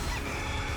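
A brief chicken cluck in Hyrule Warriors, short and faint, with no one speaking.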